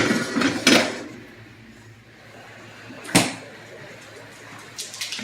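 Pot of boiled okra slid across a stovetop to the back burner, a few close metallic clanks and scrapes with quiet gaps between them.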